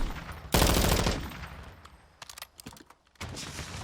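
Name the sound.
gunfight gunfire in a Call of Duty video game match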